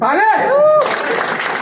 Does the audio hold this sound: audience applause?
yes